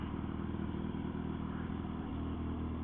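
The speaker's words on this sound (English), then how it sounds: "get the engine properly warmed up" A motorcycle engine warming up after work to cure an oil leak, idling at a steady, throaty pulse that stays close and constant without revving.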